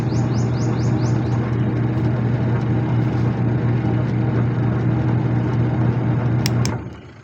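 A repaired washing machine that would not spin runs again, its motor humming in a steady low drone for several seconds before cutting off near the end, with faint chirps over the top and no talking.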